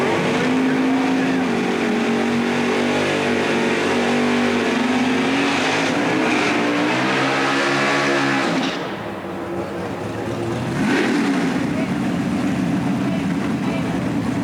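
Drag racing cars launch at Centerville Dragway, a loud roaring engine run that climbs in pitch, dips, then surges again as another car pulls away, with a crowd or announcer murmuring beneath.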